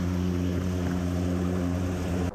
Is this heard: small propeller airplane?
yes